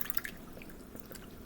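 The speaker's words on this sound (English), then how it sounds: "So I'm just gonna add water to like not use up all my vinegar at once." Water poured through a funnel into a bottle of vinegar for homemade pine soda, heard as faint, scattered drips and trickles over a soft, steady background for a brief moment, with no talking.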